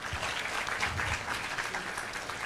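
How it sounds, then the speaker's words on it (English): Audience applauding at a medical conference session, a dense, steady clapping from a roomful of people that holds evenly throughout with no voices over it. "let's give her a big round of applause."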